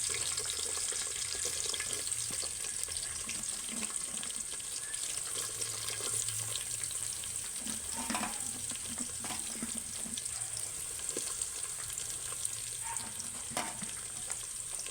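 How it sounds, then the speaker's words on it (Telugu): Sliced onions fry in oil for chicken biryani, a continuous quiet sizzle with faint scraping and stirring sounds throughout. "తర్వాత ఉల్లిపాయలు వేస్తున్నాను"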